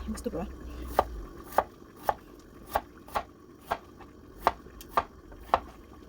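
Knife strokes chopping through a celtuce (stem lettuce) stem on a board, about ten crisp, evenly spaced cuts, close and clear against a quiet kitchen background.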